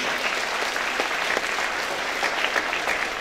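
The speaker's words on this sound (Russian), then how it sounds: "Спасибо большое, наши аплодисменты Александр Евгеньевич, Сергей Константинович," A hall audience at a Day of Knowledge school ceremony gives sustained applause: a continuous wash of many hands clapping, steady and fairly loud, with no talking.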